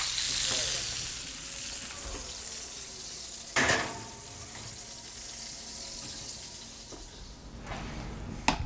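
Meat sizzles steadily as it is flipped back fat side down in a hot pan, a constant crackling hiss with a couple of clattering knocks of utensils against the pan.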